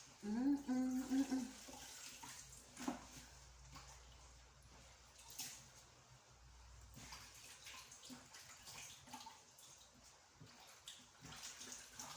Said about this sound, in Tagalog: Hugasan natin na maayos.